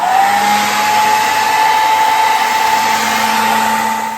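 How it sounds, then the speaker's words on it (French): A hair dryer blows steadily at close range while drying hair glue, a loud, even whirring roar with a constant motor whine that runs without a break. "Et après, je prends un sèche-cheveux et je"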